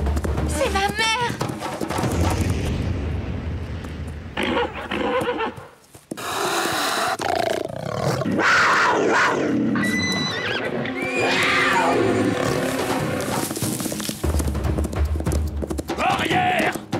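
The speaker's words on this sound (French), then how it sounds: "Un puma! Il attaque un de mes chevaux!" Cartoon horses gallop with rapid clip-clop hooves and loud whinnies and snorts during an attack, alongside dramatic music and effects, with voices speaking over parts of the scene; no clear big-cat roar stands out.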